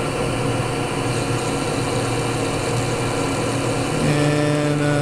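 A Clausing drill press runs at its lowest speed, around 150 RPM, giving a steady low mechanical hum and whir, continuous and close with no talking.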